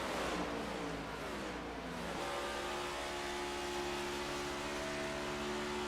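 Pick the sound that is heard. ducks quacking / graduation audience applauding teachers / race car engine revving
race car engine revving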